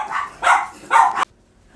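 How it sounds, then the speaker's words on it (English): A dog barks three times in quick succession, fairly close and loud, followed by a brief pause of quiet. "My dogs are barking."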